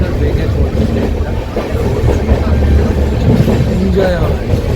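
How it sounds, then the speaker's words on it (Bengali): A passenger train runs on its tracks between Kolkata and Puri, a steady, loud rumble of wheels and carriage noise filling the whole stretch, with faint voices mixed in underneath. "চলছে ট্রেন, আর কত বেগে চলছে"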